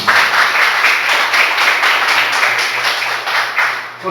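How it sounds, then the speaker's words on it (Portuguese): A church congregation gives sustained, energetic applause at a worship service, many hands clapping loudly and densely for about four seconds, with a low hum of the room beneath. "Você pode dar um aplauso ao Senhor Jesus?"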